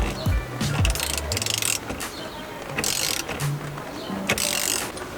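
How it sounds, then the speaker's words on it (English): A ratchet tightens a 22mm bolt while a steering wheel is installed on a BMW E30: quick bursts of mechanical clicking in several short runs, close and fairly loud, with no talk. "go ahead and grab your 22mm bolt, screw it on"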